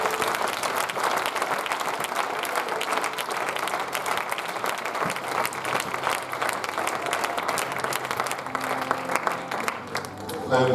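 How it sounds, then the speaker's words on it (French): A church congregation applauds to acclaim the Lord, steady dense clapping throughout with crowd voices mixed in. "Est-ce qu'on peut acclamer le Seigneur?"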